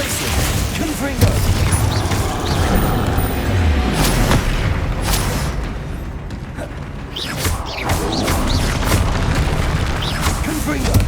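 Explosive Confringo spell blasts in Hogwarts Legacy: several loud, close booms go off in an irregular series amid creaking, mechanical clatter and rumbling debris, with a voice talking over parts of it.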